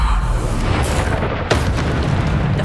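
Bombarda spell explosion in the Hogwarts Legacy video game, a loud booming burst amid dense game noise, with a second impact about a second later.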